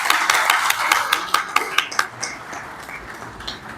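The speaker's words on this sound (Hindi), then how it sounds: "इसमें तो जरा ज्यादा गूंज से तालियां होनी चाहिए।" Scattered audience clapping at a chamber of commerce annual general meeting, a burst of sharp, uneven hand claps that thins out after a couple of seconds into faint room noise.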